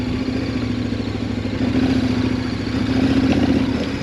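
A motorcycle rides through rough, bumpy sand on the White Rim Trail in Canyonlands, its engine droning steadily and loudly up close under heavy wind rush, with no talking.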